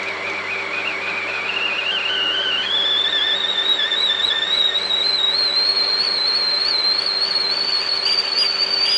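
A kettle whistle on a 1000-watt power setting inside a caravan rises in pitch, then holds a loud, steady shrill tone with slight warble over a constant hiss, lasting the whole stretch.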